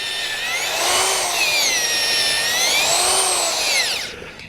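A powered auger bores into clay soil to install a soil moisture probe. Its motor whines loudly and steadily, the pitch rising and falling as it works, then winds down at the end with no talking.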